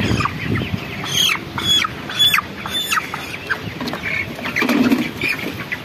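Young 28-day-old chickens cluck repeatedly nearby, with scattered sharp calls and light scratching and shuffling sounds throughout.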